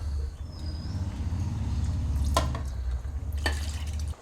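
Water pours into a pan of prawn curry as a low, steady gush that runs for about four seconds, with a few sharp clinks partway through, and stops abruptly.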